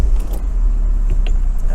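A 1999 Saab 9-3 convertible being started: a loud, low engine rumble runs throughout, with faint jingling of keys and light clicks near the ignition, and no talking.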